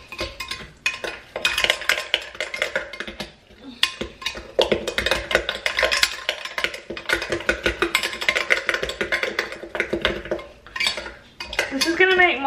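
Sugar is stirred into pink lemonade in a pot with a utensil, giving continuous close scraping and clinking against the metal for several seconds. Brief speech is heard near the end.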